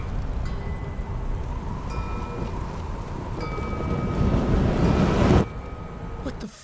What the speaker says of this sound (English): And then here's a sonic arrow.